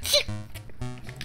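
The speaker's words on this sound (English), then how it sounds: "I may sneeze." One quick, sharp sneeze from a person bursts out at the start, followed by a brief breathy, voiced exhale at close range, with no other sound around it.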